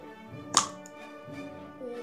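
A single sharp snap as a small homemade cardboard box launcher fires, heard over a person speaking quietly.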